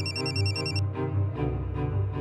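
A telephone rings briefly in a Pakistani television courtroom drama, its bright electronic trill layered over dramatic background music that carries on after the ring stops.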